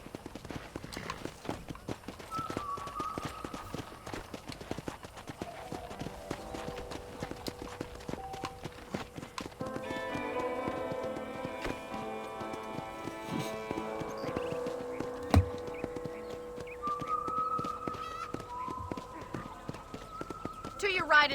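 Horse hooves clip-clop steadily in the Western game Red Dead Redemption, a ridden horse moving at an easy walk beneath a voice talking and soft background music.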